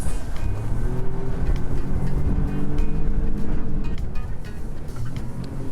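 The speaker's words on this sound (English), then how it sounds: "it's just a fun boat to drive" Outboard engine, a 50 hp motor, running steadily on an Ocean Master 390 boat out on the water, a loud continuous drone with rushing hull and wind noise throughout.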